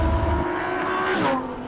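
Engine note of a Mercedes-AMG GT R or Lamborghini Huracan Performante on the Castellet circuit, a loud sustained drone with shifting pitch, rising briefly before easing off near the end.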